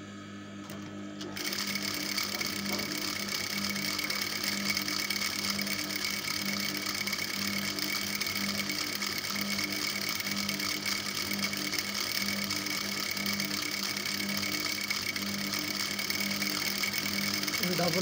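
A sewing machine runs continuous double stitching on a palazzo skirt, with a loud, steady mechanical whirr after a brief quiet start that carries on without pause.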